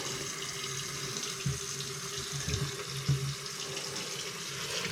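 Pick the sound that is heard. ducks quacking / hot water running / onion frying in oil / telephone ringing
hot water running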